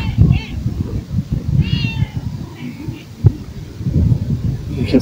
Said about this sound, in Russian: Кошка.